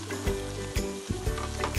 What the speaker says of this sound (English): let it sizzle for a couple of minutes